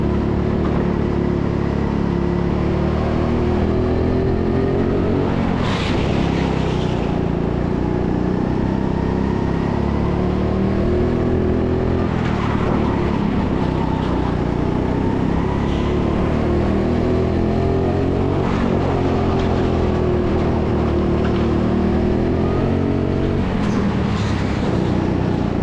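Go-kart engines drone continuously on an indoor track during a mixed-ability race, a loud buzzing whine that rises and falls with each lap and corner, with periodic swells as karts pass close by.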